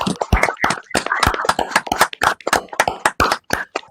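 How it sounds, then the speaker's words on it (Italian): An online live session's audience applauds Dr. Gerald Bassleer, a dense run of close, sharp hand claps lasting about four seconds with no pauses for speech. "Potremmo fare un applauso?"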